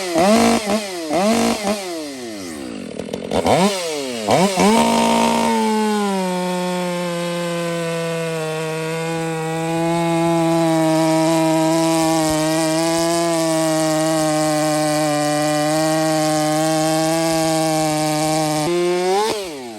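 A chainsaw with a square-filed, freshly sharpened chain revs up in a few bursts, then bites into a 12-inch log with a loud, steady buzzing drone for about fifteen seconds, pitch sagging slightly as it loads up, with no talking.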